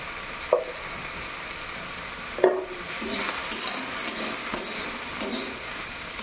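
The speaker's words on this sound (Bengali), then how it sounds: "নুন হলুদ দিয়ে সয়াবিনগুলো হালকা ভেজে নেব।" Soybean chunks lightly frying with salt and turmeric for a vegetarian banana flower curry give a soft, continuous sizzle, broken by a couple of sharp spoon clanks and stirring scrapes against the pan.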